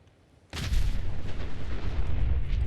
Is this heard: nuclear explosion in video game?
yes